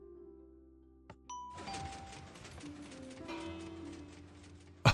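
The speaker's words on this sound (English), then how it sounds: "Different doorbell sounds" A Minecraft doorbell chimes inside the game, a sharp bright ding followed by a short run of tonal notes and clicks, close and clear with no talking.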